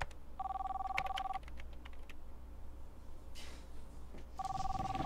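A phone trills twice, once at the start and again near the end, while keys clatter faintly on a keyboard in a quiet room.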